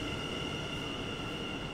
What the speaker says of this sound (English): at Schiphol Airport, I transferred to another train.